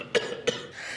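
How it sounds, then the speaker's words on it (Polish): A man coughs twice in short, sharp bursts at moderate distance inside a crowded room, with a low murmur of background noise between the coughs. "Boże, jak ten facet kaszle."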